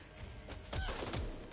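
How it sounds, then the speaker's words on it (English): Two or three sharp gunshots from a weapon fired at the floor in Back 4 Blood, close and punchy, over a low game background. "He's shooting the floor and giggling"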